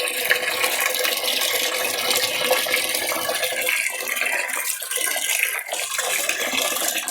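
Rice being washed by hand in water for idli batter, a steady broadband splashing and swishing that runs continuously and fairly loud throughout, with no speech.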